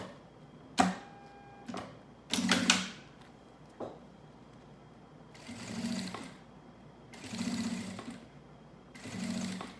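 A sewing machine stitches piping along the edge of a fabric piece in quiet, close bursts of rapid rhythmic whirring, with a few clicks and handling knocks between runs.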